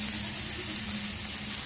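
Cooked rice tipped into a hot pan with a little oil, frying with a steady, close sizzle that holds evenly for a moment with no talk.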